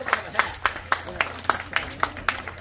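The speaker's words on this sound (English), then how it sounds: "So let's give Larry a round of applause here." Audience applause for a big band musician at a live concert: steady, rhythmic hand claps, fairly faint and somewhat distant, with a low hum underneath.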